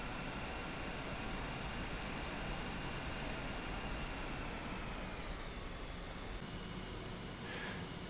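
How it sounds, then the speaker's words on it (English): An F-5E jet engine in a flight simulator game spools up as power is added for taxi, a steady, even roar that holds throughout with no voices. "So we'll go ahead and add power and start our taxi."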